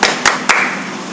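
Children clap a short rhythmic cheer called "tepuk wow" at a Sunday school gathering, giving three sharp, close claps in quick succession followed by a brief ringing tail.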